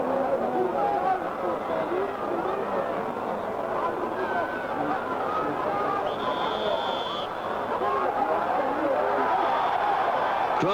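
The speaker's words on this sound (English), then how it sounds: "Crowd not liking that." A 1970s football crowd at a Fortuna Düsseldorf versus Kaiserslautern match voices its displeasure in a steady, loud roar of jeering and murmuring that fills the whole stretch, with a brief whistle partway through.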